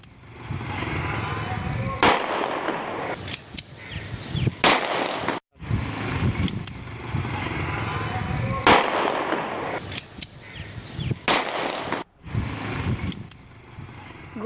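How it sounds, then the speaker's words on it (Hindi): Pistols fired into the air on a street in Faisalabad, heard as a few sharp, loud cracks standing out over steady crowd noise and background commotion. "गोलियों की तड़तड़ाहट आपने सुनी"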